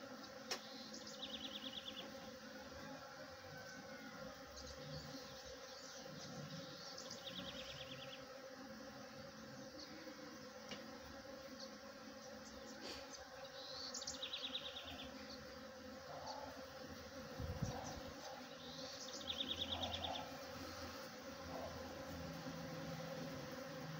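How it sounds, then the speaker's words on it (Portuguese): Bees work the flowers of a fruit-laden jabuticaba tree, their buzzing humming steadily with occasional louder passes close by, set against a soft chorus of insects and distant chirps. "Olha como as abelhas estão trabalhando aqui, de maior rapidez."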